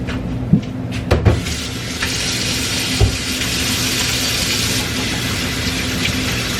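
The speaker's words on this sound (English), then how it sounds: "And I also always wash my hands after." A kitchen tap runs steadily while hands are washed, with a constant hiss of water and a few faint knocks and clunks near the start.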